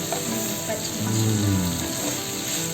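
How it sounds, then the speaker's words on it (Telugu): Gongura chicken curry fries in oil in a pan, producing a loud, continuous close-up sizzle with soft bubbling that stays steady throughout. "అలాగే కొంచెం ఆయిల్ వేసుకొని ఇలా ఒక 5 సెకండ్స్ ఇలా ఫ్రై చేస్తే చాలు"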